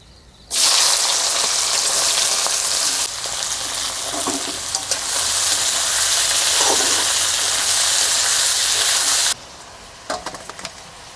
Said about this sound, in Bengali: প্রথমে সাদা তেল দিয়ে দিচ্ছি পেঁয়াজ কুচি দিয়ে দিচ্ছি তেল গরম হয়ে গেছে